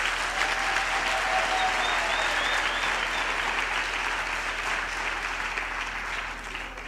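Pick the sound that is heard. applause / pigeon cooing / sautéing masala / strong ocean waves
applause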